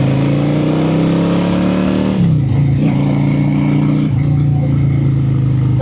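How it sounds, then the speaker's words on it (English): A Honda Shadow 750 Spirit cruiser motorcycle accelerating, its engine droning loud and close, then dipping briefly as it shifts gears before pulling again; a voice can be heard faintly. "Definitely some decent acceleration. It's a fun bike."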